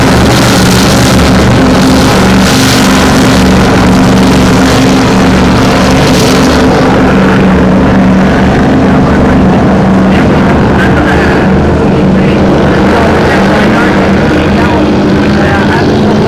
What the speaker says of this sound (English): Don't they sound awesome, these offshore powerboats?